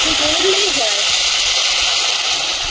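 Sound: water poured into hot curry pan, hissing

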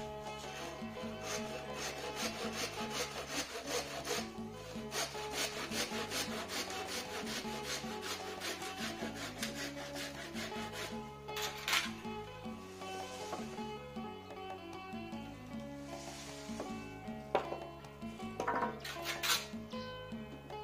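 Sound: hand saw cutting wood

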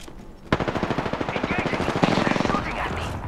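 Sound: gunfire in the video game Apex Legends

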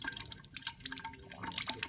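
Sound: rinsing dialysis tubing with water

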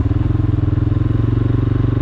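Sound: quad bike engine being revved

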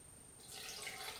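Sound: pouring lukewarm water

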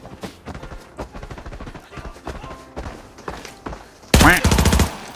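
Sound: gunfire in a video game

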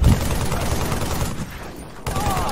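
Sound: sniper gunfire in Halo Master Chief Collection video game

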